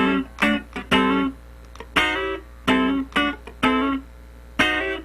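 Funk rhythm guitar plays a first bar of short, choppy chord stabs, sliding into a three-finger chord voicing with crisp muted strums in a syncopated pattern, played close and alone.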